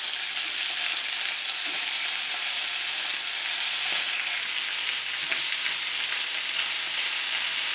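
Chicken wings fry in a pan with a steady, loud, close sizzle that continues unbroken, and faint scraping suggests the pieces being turned over.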